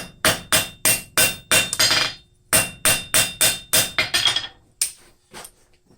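A blacksmith hammers hot steel while forging a scraper, delivering sharp ringing blows in two quick runs of about eight strikes each, separated by a short pause, with a few lighter taps after, loud and close.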